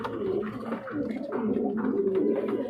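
Pigeons of a blackless shirting running pair coo steadily and close by in soft, rolling, repeated calls, with no voices over them.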